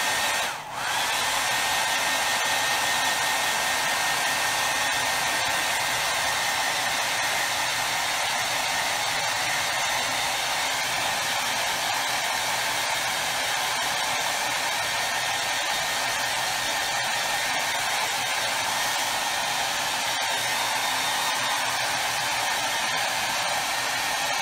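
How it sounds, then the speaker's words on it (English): A hair dryer blows steadily and loudly without pause for over twenty seconds, a constant close broadband rush used to dry crafted date blocks. "I am going to touch this up again with the hairdryer"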